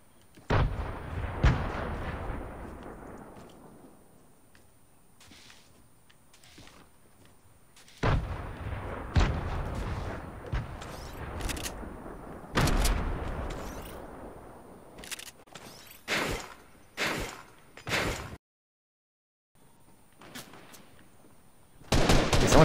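Gunfire and grenade explosions from a Fortnite match ring out as a series of sharp, loud bangs with decaying tails, some isolated and some in rapid clusters, separated by quieter stretches.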